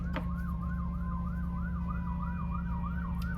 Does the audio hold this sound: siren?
yes